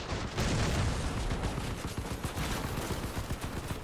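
Shotgun fire in the video game OutWorld of CrossCraft comes as a loud, rapid barrage of overlapping blasts, a dense crackling volley that peaks early and keeps rattling in quick succession to the end.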